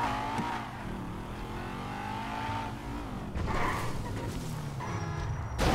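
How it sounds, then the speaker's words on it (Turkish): A Ferrari sports car in GTA 5 revs and accelerates with a continuous engine drone that rises and falls, followed by a louder surge and hints of tire noise. A brief voice is heard. "Ferrari'den manyak araba ha."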